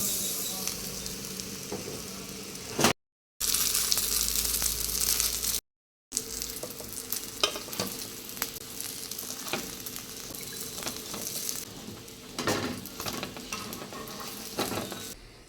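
Pumpkin flower fritters sizzle steadily in hot oil in a home kitchen, with a continuous crackling hiss and occasional stirring clinks, briefly broken by two short gaps.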